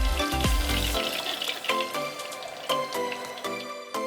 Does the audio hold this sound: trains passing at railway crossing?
no